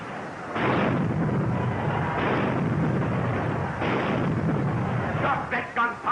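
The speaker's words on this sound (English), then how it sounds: "Stop that gunfire! Stop it!" Heavy, sustained booming blasts of gunfire roll continuously, loud and dense, with a few sharper cracks near the end.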